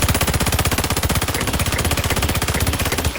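Rapid, continuous automatic gunfire from a shooting video game rattles loudly and evenly for several seconds, close and dense with no pauses.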